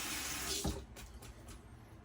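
Water runs steadily from a tap while shaving lather is being prepared, a close, continuous splashing flow with a brief louder gush partway through.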